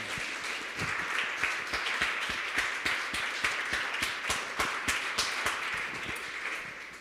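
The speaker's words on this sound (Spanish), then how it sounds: "Dale un aplauso fuerte al Señor" Congregation applauding loudly at a church service, a steady dense clatter of many hands clapping continuously throughout, fairly near and even in level.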